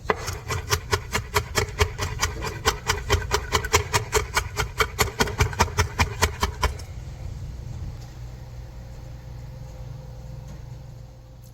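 Fresh rosemary and thyme being finely chopped with a knife on a board, a fast even run of sharp close taps for several seconds, then stopping into quiet room noise.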